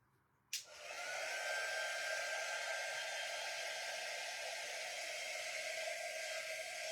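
A hair dryer clicks on and blows a steady, loud, close whoosh without a break while drying a painted craft scarecrow.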